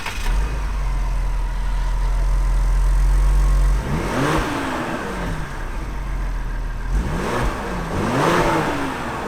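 A nearby Ford Explorer ST SUV engine, 400 horsepower on its stock exhaust, idles low, then revs twice in rising-and-falling sweeps with a muted, mild exhaust note.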